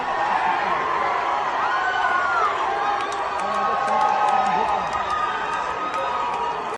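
Massed voices at a street protest keep up a loud, unbroken chant, with scattered shouts and a few laughs rising over the crowd noise before it cuts off abruptly.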